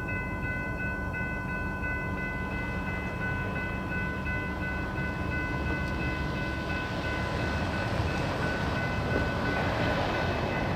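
An Amtrak California Zephyr passenger train rolls past at Fort Morgan, a loud continuous rumble of wheels and cars with steady high-pitched whine tones ringing over it for the whole stretch.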